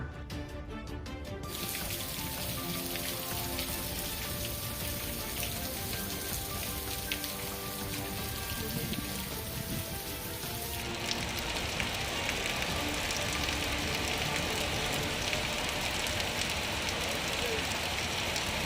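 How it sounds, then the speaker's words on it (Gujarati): Heavy unseasonal summer rain pours steadily onto a city street in Mahuva, Gujarat, a dense continuous wash of water that grows brighter and more intense partway through. "વરસાદ વરસતા શહેરના રસ્તા પર વરસાદી પાણી ફરી વળ્યું"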